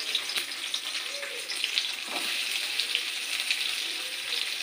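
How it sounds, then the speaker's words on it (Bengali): Onions dropped into hot oil in a pan after chicken has been fried, giving a steady soft sizzle with faint scraping stirs, close and alone with no talking. "এবার আমি তেল গরম করেছি, এর পেঁয়াজগুলো দিয়ে দিচ্ছি"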